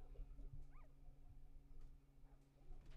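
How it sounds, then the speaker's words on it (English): A dog in the 7 Days To Die survival game gives faint whimpers and short yips over a low steady hum of game ambience. "Let's see, there's a dog up here."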